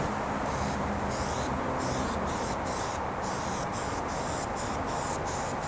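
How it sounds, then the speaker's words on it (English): 3M General Trim Adhesive contact cement spray hissing steadily from an aerosol can, a continuous close spray with brief pauses, no talking. "we've got some 3M General Trim Adhesive. It's basically contact spray."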